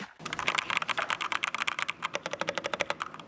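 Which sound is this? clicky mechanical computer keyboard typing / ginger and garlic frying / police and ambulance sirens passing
clicky mechanical computer keyboard typing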